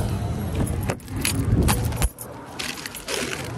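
Car keys jangle and clink in a hand at a busy store in Philadelphia, a run of light metallic rattles repeating over several seconds against background noise and movement.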